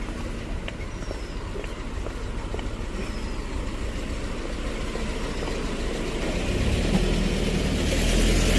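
Green minibus in Hong Kong street traffic, a steady engine hum and traffic rumble that grows louder near the end as the vehicle draws close.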